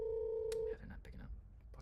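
Telephone call going unanswered, a steady ringing tone that cuts off after under a second, followed by faint shuffling noise.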